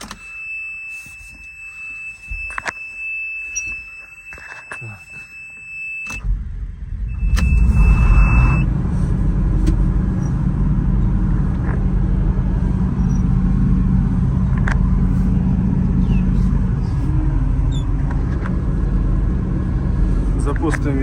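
A 1992 John Deere 1177 SII Hydro4 combine harvester chimes its warning dings, then its engine cranks and fires. It settles into a loud, steady, rumbling idle, with a voice speaking.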